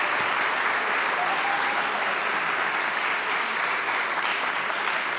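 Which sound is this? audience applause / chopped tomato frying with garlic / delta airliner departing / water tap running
audience applause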